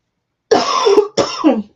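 Two quick throat clears in a row, close and fairly loud, the second shorter, separated by a brief pause, with no talking.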